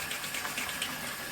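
Warm water runs steadily into a sink while an ink-covered printmaking roller is rinsed, a close, even splashing stream with a small clunk at the very end.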